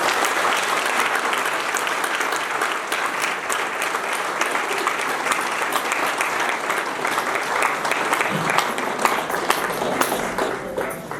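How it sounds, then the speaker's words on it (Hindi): Loud, dense applause from a large audience at a spiritual gathering led by Acharya Swami Paramanand in Chitrakoot, sustained and steady throughout with no pauses. "उसके लिए जोरदार ताली बजाएं।"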